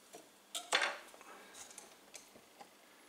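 A knife slices through the middle of a cooked waffle from a Breville VST072 DuraCeramic waffle maker: one close scraping, clinking burst of metal on the plate, then a few soft, faint taps.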